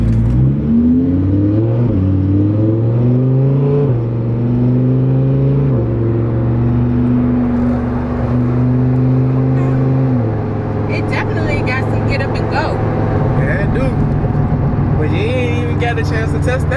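A Lamborghini in sport mode pulls hard from inside the cabin, its engine climbing through several gears in stepped surges before easing off into a steady cruise; people talk over the roar.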